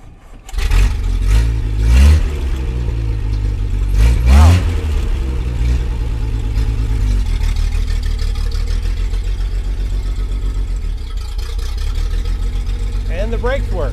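A 1936 Bentley drophead coupe, long stored in a barn, cranks and fires up, then settles into a steady running engine rumble close by, with a couple of early revving bursts and voices talking over it.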